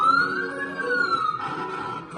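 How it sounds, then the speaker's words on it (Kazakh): A fire engine siren wails in one rising and falling sweep, sounding fairly close and carrying on for about two seconds. "өрт сөндіру көлігі,"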